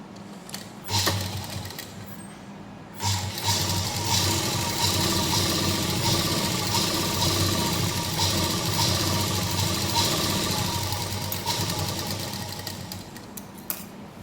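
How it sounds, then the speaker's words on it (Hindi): A sewing machine runs close and steady while stitching salwar panels, with a short pause near the start before the motor resumes its continuous whir to the end. "और यहाँ सिलाई लगाएंगे।"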